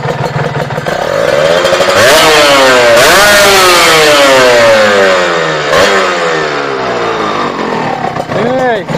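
A GPX Serpico 150 motorcycle with its stock single exhaust revs hard, heard at the pipe tip, the engine pitch climbing and dropping in several loud surges before settling back toward idle.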